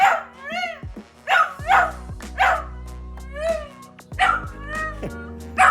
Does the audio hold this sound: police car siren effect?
no